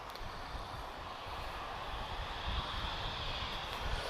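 A TAP Air Portugal airliner touches down on the runway at Lisbon Airport, heard as a steady, broad roar of engine and rolling noise from a moderate distance, with no talk.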